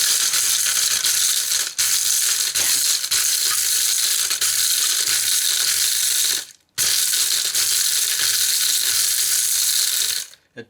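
Blender grinding seashells into model railway ballast, a loud continuous rattling churn with one short pause midway before resuming and then cutting off.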